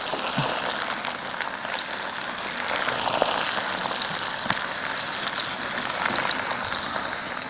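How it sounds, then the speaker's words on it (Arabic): Chicken wings fry in hot oil with a steady, dense crackling sizzle that stays loud and even throughout, with no talking over it. "بلشنا نقلي الجوانح"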